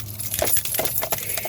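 Keys jangle and clink in quick metallic bursts, close by and fairly loud, with a faint hum underneath.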